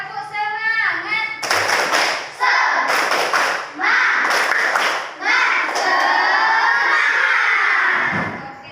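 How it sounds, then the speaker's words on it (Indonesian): A classroom of children does the rhythmic 'tepuk semangat' spirit clap: bursts of patterned hand claps and thumps alternate with children chanting and shouting along, close and lively throughout. "Kita tepuk semangat dulu. Yuk, tepuk semangat."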